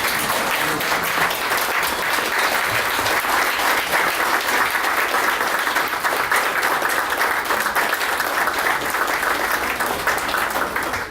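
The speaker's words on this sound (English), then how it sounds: "I'd like to honor you by having them stand up and clap their hands" An audience stands and claps to honor guests at a gathering, with sustained, even applause from a sizable crowd that carries on loudly and steadily for about eleven seconds.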